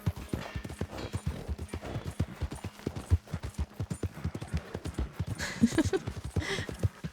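Horse hooves clip-clop in a quick, steady rhythm in Red Dead Redemption 2, close and clear over several seconds, with a faint background noise near the end.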